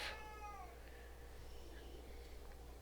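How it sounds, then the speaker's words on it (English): A single clear cat meow at the start, fairly close, fading into quiet room noise. "So if you hear him meowing,"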